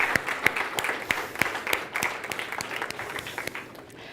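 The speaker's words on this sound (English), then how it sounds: "So let's clap with me one more time" Audience members clap in unison along with a speaker at a data science talk, a rhythmic series of about a dozen evenly spaced group claps over a soft background murmur.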